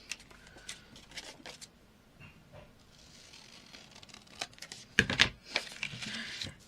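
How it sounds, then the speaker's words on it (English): Paper die-cut scraps are cut and trimmed in a crafting session: scattered soft snips and rustles, then a denser burst of crisp cutting and paper handling close by. "I'm going to cut this shorter."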